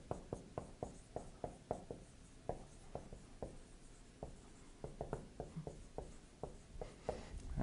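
Chalk or marker strokes on a board during a physics lecture, a steady series of short taps and scrapes in quick rhythmic bursts, fairly close, with no talking.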